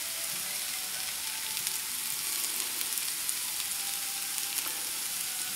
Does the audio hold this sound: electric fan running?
no